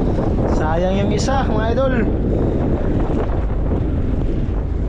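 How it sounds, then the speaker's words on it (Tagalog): Strong northeast monsoon wind at sea buffets a microphone on a fishing boat in a steady, loud roar, with someone talking briefly over it at the start. "Grabe yung amihan di mga idol. Napakalakas pa rin."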